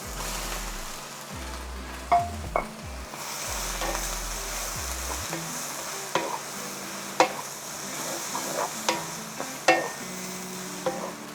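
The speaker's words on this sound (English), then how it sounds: "Let's give it a quick stir." Onions, garlic and okra stir-fry in a hot pan for a kimchi and okra dish, a steady sizzle with sharp scraping clicks of a utensil against the pan at irregular intervals, close and alone without voices.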